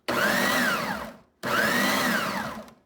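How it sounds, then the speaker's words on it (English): A countertop blender runs in two bursts of about a second each, motor whirring loudly as it blends fresh salsa with green onions, with a short pause between bursts and no talking. "it won't run without the lid, and then blend"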